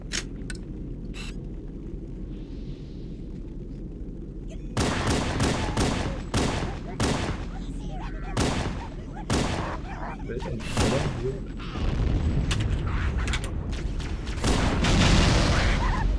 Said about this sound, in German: He got killed by some explosions.